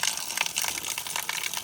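Cold water gushing from a roadside tap along a mountain path toward Manungkot, a brief steady splashing flow heard close up with no talking.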